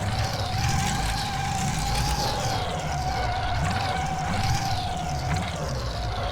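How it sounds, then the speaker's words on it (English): A LEGO Technic 8865 car with a four-cylinder engine drives in a simulator game, its engine droning steadily and continuously at moderate volume with a slight rising and falling of pitch. "You hear sort of the thumping 4-cylinder sound."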